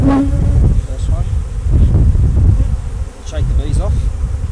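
Honeybees swarm around a frame lifted from an open 8-frame polystyrene hive, a loud, dense, continuous buzz close to the listener, with some low rumble and brief handling noise mixed in.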